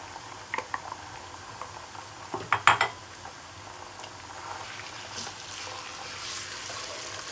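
Minced meat going into a pan of fried garlic and ginger, a brief cluster of clattering metal and utensil knocks followed by a soft steady sizzle, no talking.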